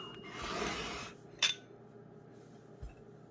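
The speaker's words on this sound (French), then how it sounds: "Nous allons remuer puis passer au tamis." Black pepper is stirred with water and then poured through a sieve, heard as a soft swishing scrape followed by a single sharp clink of a utensil and a faint knock, close and quiet.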